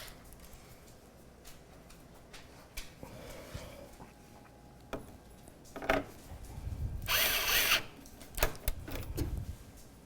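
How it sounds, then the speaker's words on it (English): A power drill drives screws back in with a few short whirring bursts, the loudest near the end, amid quiet handling clatter close by. "I wasn't done putting my screws back in."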